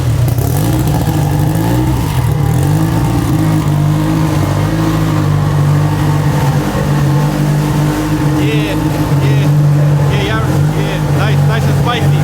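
A Honda Civic with a K-series engine swap and all-wheel drive runs on a dyno, producing a loud, sustained, droning engine note that holds steady and strains throughout, with faint voices beneath it.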